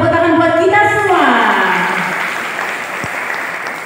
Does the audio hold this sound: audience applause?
yes